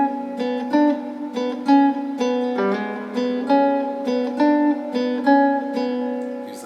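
Fingerstyle blues guitar pattern, plucked notes alternating in a steady up-and-down groove with a bass line underneath, close and clear, played solo with no talking.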